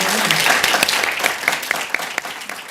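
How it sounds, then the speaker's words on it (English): An audience at an evening talk on fashion journalism applauds its guest, a dense, loud wash of clapping with sharp individual claps standing out as it gradually thins toward the end. "A very warm round of applause, please, for our guest this evening."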